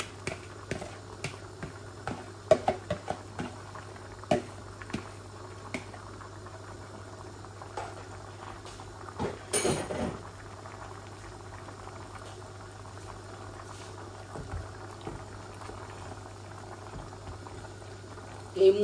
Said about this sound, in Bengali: এই আমি হাঁড়ির মধ্যে রেঁধে ফেলতেছি।